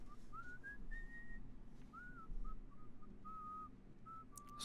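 A character in the GTA IV video game whistles a wandering, sliding tune in a few separate phrases, thin and fairly quiet over a low game background hum, with no talk.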